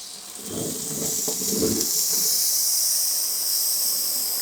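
Hot ski wax hissing and crackling under a waxing iron set to 150, a steady sizzling hiss that swells and holds for several seconds, close up, with no talking.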